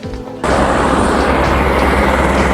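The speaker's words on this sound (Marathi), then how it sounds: "हे बघा इथं माझ्या समोर हेलिकॉप्टर आहे आणि एकदम समोरनं आपण हेलिकॉप्टर उतरता यायला बघायला लागलो आहे" A helicopter lands close by at the Kedarnath mountain shrine, its loud, steady rotor and engine roar washing over everything after a sudden start.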